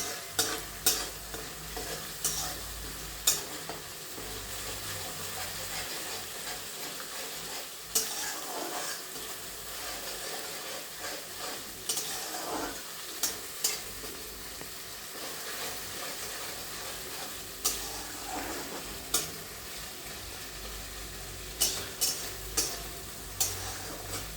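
Masala sautéing in a pan with a soft, continuous sizzle, punctuated by sharp spatula taps and scrapes against the metal at irregular intervals, fairly quiet and close.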